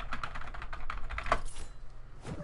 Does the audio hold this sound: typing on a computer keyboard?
yes